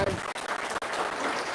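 Audience applause at an Indonesian religious testimony gathering, a dense burst of hand clapping that fills the whole short moment with only brief dips.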